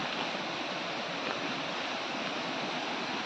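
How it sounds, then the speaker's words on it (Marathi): Steady rushing water from a stream near a waterfall hidden in dense forest, a continuous broadband roar holding even and unbroken throughout, with no voices. "पाण्याचा आवाज इकडे येतोय, त्या पाण्याच्या दिशेने आपल्याला जायचं आहे"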